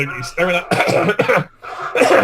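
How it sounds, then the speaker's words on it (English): A man lets out loud, close coughs and throat-clearing sounds mixed with stifled laughter, a forced cough used to mask laughing, in a few choppy bursts. "He's trying to turn the treacherous laughter into a cough."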